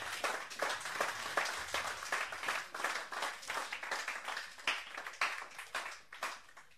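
A church congregation claps during a sermon, a steady run of sharp, irregular claps from many people lasting several seconds, moderately near.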